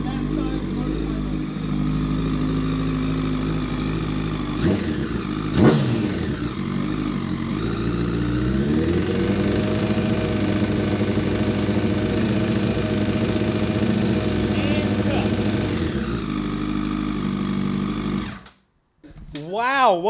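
A project motorcycle's engine rumbles close by. It revs a few times, then settles into a rough, uneven idle that runs on for many seconds before cutting out near the end.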